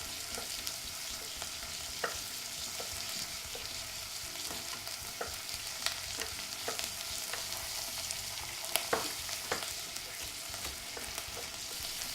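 Onions sizzle steadily in a hot pan, a continuous frying hiss broken by irregular scraping clicks as a utensil stirs them, close and moderately loud with no talking.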